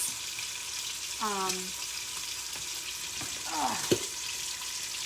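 Pork sizzling and frying as it browns in an Instant Pot, a steady faint crackle throughout with a couple of brief clinks and scrapes over it.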